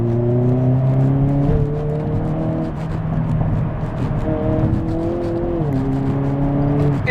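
A Hyundai Kona N in eco mode rolls over a rough road, its engine holding a steady, droning hum with slight pitch shifts as speed changes, loud and continuous throughout.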